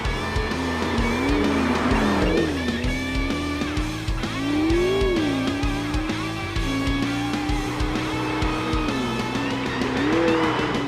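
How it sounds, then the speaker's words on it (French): A 2016 McLaren 650S twin-turbo V8 accelerates and shifts repeatedly, its engine note rising and dipping loudly from inside the car, with turbo whoosh and brief chirps between gears. "un V8 biturbo, qui a une sonorité quand même relativement agréable"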